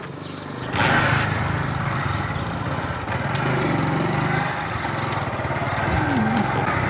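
Honda CD-70 motorcycle engine running steadily during a ride, a continuous low droning hum with wind rush, loud and close throughout with no talking.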